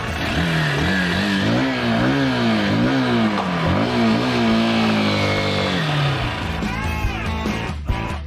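A Honda Bros 160 motorcycle engine revs repeatedly while riding in city traffic, rising and falling pitch through gear changes, loud and close, with other traffic noise near the end.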